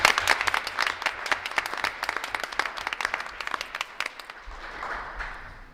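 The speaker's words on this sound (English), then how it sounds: "Let's give them a round of applause." Audience applause at a board of education meeting, a room of hands clapping in a brisk, uneven patter that slowly thins and softens over several seconds.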